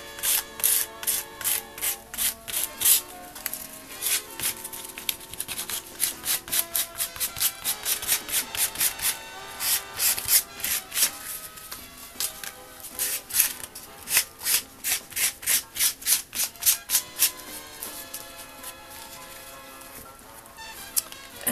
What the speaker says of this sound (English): I'm going to get a little piece of fine sandpaper and just very gently, so that you don't tear the foil, rub over it.